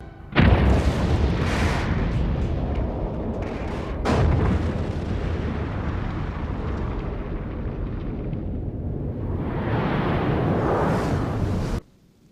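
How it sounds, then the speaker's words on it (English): Klingon moon Praxis explodes in a Star Trek film: a loud, deep, rumbling blast with a second surge partway through, roaring steadily for about eleven seconds before cutting off abruptly. "a Federation starship monitored an explosion on the Klingon moon, Praxis"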